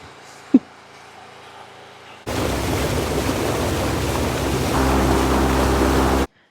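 Motorboat engine on a ride through Matka Canyon: after a brief click and quiet, a loud steady motor roar with rushing water starts abruptly, grows slightly deeper and then cuts off sharply.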